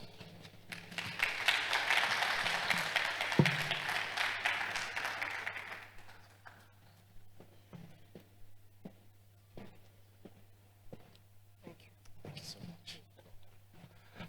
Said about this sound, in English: Please, can we give him another resounding round of applause?